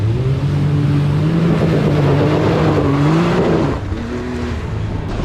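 A Can-Am quad bike's engine revs hard at a ford, its rising and falling engine note surging close and loud before easing off near the end.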